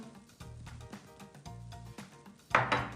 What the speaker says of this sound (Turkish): tekrar Homojen bir kıvam alana kadar kek harcımı karıştırıyorum